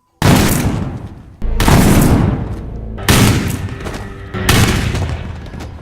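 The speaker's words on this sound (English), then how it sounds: "a man rounding up and executing anyone who has heard tell of the Bye-Bye Man" Four loud, booming gunshots ring out one after another, each with a long reverberant tail, in a film scene of a man executing people in The Bye Bye Man.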